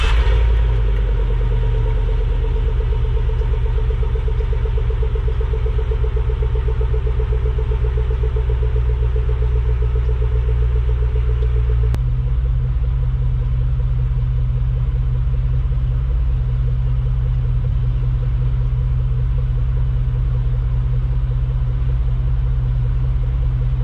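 Chevrolet Trailblazer SS running on its stock exhaust before a MagnaFlow muffler install, a deep steady rumbling idle heard close and loud, shifting slightly in tone partway through, with no one talking.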